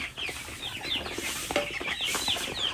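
Young chickens under two months old cluck and chirp continuously in a coop with a transparent roof, a busy layered flock chatter with occasional wing flutters, fairly close and steady throughout.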